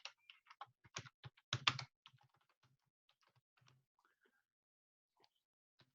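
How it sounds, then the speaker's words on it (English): Fast, uneven clatter of keys on a computer keyboard, typed in bursts that thin out into sparse single taps, heard fairly close and alone in a quiet room. "Thank goodness you can't see me typing in the chat tool."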